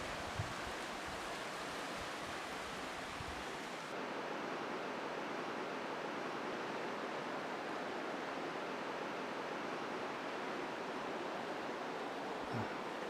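Steady broadband rush of the Mohaka River flowing in a New Zealand forest setting along the Te Puia Track, continuous and fairly close, with a brief change in tone early on and no voices.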